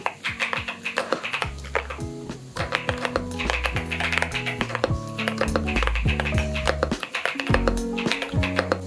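Rapid typing on an EpoMaker Shadow S mechanical keyboard, a steady close-up stream of crisp key clacks at a quick, uneven rhythm with no pauses.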